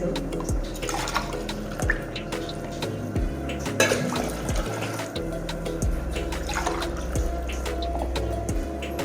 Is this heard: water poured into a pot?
yes